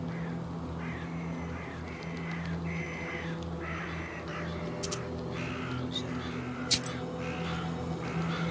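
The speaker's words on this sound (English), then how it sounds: "A restless mischief of magpies is circling the telegraph post." Magpies in a video game call around a telegraph post at night, with harsh caws and chatter over a steady low ambient hum, plus a couple of sharp brief bursts partway through.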